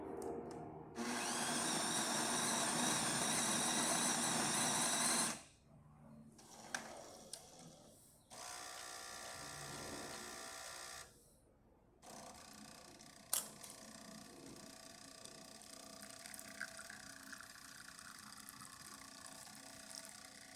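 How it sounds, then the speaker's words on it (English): A Jura automatic coffee machine, just serviced, grinds and brews an espresso shot: a loud whirring grind burst, a pause, a second mechanical run, then softer pump and dripping sounds, all close and with no talk. "let's go ahead and test it and make espresso shot on it."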